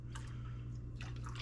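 Case cleaning solution poured into a brass case cleaner for reloading .38 Special ammunition, heard as short liquid trickles and drips over a steady low hum.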